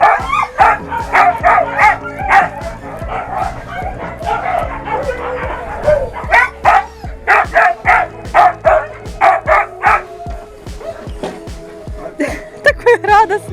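Sled dogs bark and yip excitedly in quick, repeated bursts close by, with high whimpering cries mixed in throughout.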